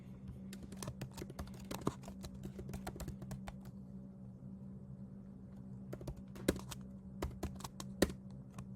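Computer keyboard typing up close, quick irregular clusters of key clicks separated by short pauses and a steady low hum underneath.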